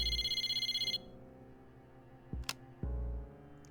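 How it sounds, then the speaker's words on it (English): A cell phone rings in the video game Persona 3 Portable: a rapid, pulsing electronic ring trills for about a second and then stops. A couple of short soft clicks and tones follow in the quiet. "Mitsuru's cell phone rang."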